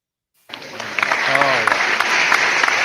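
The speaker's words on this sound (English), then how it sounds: "Oh, huge round of applause." Audience applause breaks out suddenly and holds as a dense, loud wash of clapping with scattered cheers and voices mixed in.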